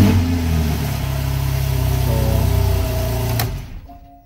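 A 2014 Porsche 911 Carrera S with a power kit and 24,000 miles runs loudly and close with a steady engine drone that rises slightly, then cuts off abruptly near the end.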